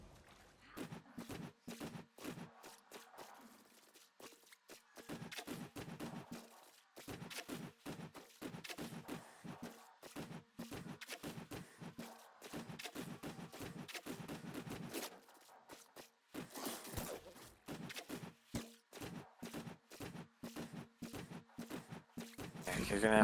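Rapid automatic turret fire in Destiny 2 at Firebase Airfield, a long stream of sharp repeating shots broken by brief pauses, loud and close, with a player's voice talking over it.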